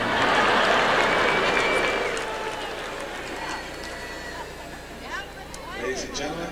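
A large arena crowd of about 13,500 at a gymnastics event at the HemisFair reacts to a score with loud, sustained applause and booing-like roar that fades after two seconds into murmuring crowd babble.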